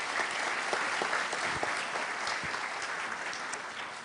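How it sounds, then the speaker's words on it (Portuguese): Steady applause from an audience at a security forum talk, celebrating a raffle winner: dense, continuous clapping at even loudness for about four seconds with no voices over it. "Salva de palmas para o número 227."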